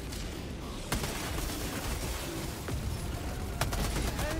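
Mortar sentries firing in a video game, heard as a busy stretch of battle with a few sharp, loud bangs breaking through continuous gunfire and rumbling explosions.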